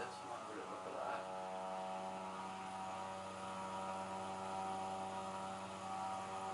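Inside Microsoft Flight Simulator X, a Cessna Caravan's turboprop engine drones steadily and evenly through the whole stretch, a continuous buzzing hum with a faint swell near the start.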